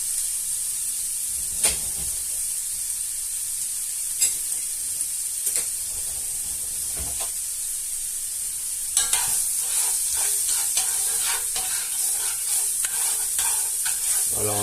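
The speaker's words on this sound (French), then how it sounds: "Alors on laisse suer les oignons" Chopped onions sweating and frying in very hot oil in a pan, a steady close sizzle with occasional stirring clicks, the hiss growing busier and more crackly toward the end.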